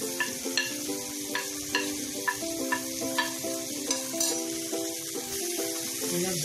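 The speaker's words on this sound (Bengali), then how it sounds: "তেল ভালো করে ভাজব।" Eggplant sizzles in oil in a pan while a spatula stirs it, giving a soft, steady frying hiss punctuated by regular scraping clinks of the utensil, fairly quiet and close.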